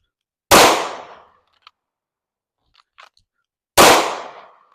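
Two sharp, loud Glock pistol shots ring out at a shooting range about three seconds apart, each decaying quickly, with faint clicks of handling between them.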